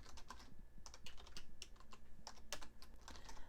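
Quick, irregular clicks of keys on a computer keyboard as someone types short entries, with brief pauses between bursts, close and fairly quiet, no voices.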